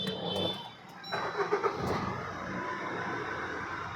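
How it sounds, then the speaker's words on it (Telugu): A 2018 Maruti Ertiga ZDI+ diesel seven-seater is started, with a few quick cranking bursts and then a steady, close diesel idle that continues to the end. "సార్ బండి స్టార్ట్ చేస్తా"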